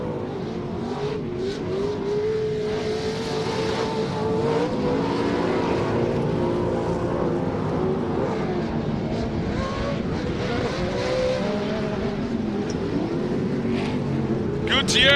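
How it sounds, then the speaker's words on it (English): Short course off-road race trucks roar past at a Great American Short Course round, a continuous layered engine rumble with rising and falling revs, under loud race commentary throughout. "Gibbs goes inside of Cox. He'll make the pass and just roosts Troy Cox into the cockpit"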